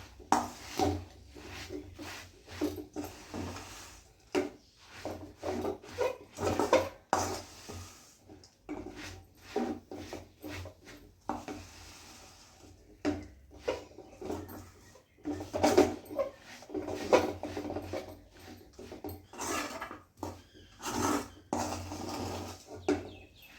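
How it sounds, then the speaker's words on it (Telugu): Puffed rice stirred through melted jaggery in a pan for a crunchy sweet, heard as repeated close scraping and knocking of a utensil against the pan in irregular bursts, with no talk. "దీన్ని బాగా మిక్స్ చేసేసుకుందామండి. బెల్లం అంతా ఈ మరమరాలుగా పట్టేటట్టు"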